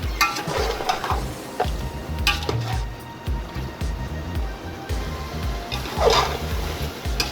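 Rice stirred into mutton yakhni biryani masala in a pot, giving close, irregular scraping and wet sloshing strokes with a light sizzling hiss running underneath.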